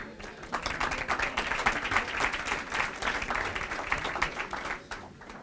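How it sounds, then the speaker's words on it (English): A crowd applauds with sustained clapping, a dense, steady patter of many hands that fades slightly toward the end. "let's give them a round of applause."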